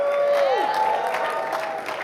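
A louder round of applause from the US-Africa Summit reception audience, dense clapping mixed with some cheering that holds steady across the moment, with a sustained voice tone sliding down near the start.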